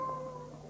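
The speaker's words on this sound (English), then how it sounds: "The cat is right here in the castle." A cat meows in a radio drama set in a castle, a single drawn-out tonal cry, fairly close and alone.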